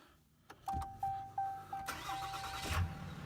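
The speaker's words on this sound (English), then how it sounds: "we'll start this thing up, give it a before and after with the exhaust." A 6.7L Cummins diesel truck cranks with several quick rhythmic starter chirps, catches and settles into a rough, rumbling idle close by.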